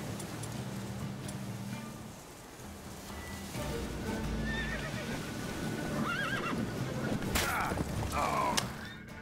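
A horse in The Witcher 3 video game gives loud whinnies and snorts, with thuds and hoof clatter in between, while someone talks over the game sound.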